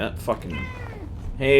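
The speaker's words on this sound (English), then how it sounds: "You can hear the meow." A pet cat meows loudly twice, once near the start and again at the end, with someone talking over the calls in between.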